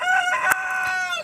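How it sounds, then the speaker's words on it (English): A rooster crowing in the background near a backyard beehive, one sustained, fairly clear crow of about a second that tails off at the end. "there's a rooster crowing in the background"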